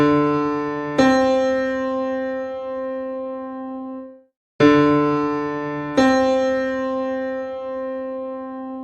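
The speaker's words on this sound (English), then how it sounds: "Next, we have the minor 7th." A minor seventh interval played twice on a sustained keyboard-like tone: a low note, then a higher note about a second later, both ringing and fading before a brief silence and the same pair again.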